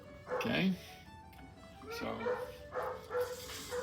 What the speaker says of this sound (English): if you hear a dog in the background